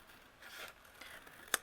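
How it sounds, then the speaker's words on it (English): Scissors trim patterned paper for a handmade card, giving a faint, soft cutting rustle that ends in one crisp snip. "I'm actually going to use my scissors, and I'm going to trim away"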